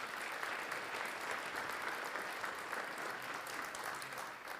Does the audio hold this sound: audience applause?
yes